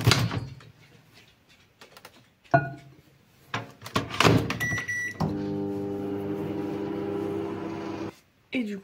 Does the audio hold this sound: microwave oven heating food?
yes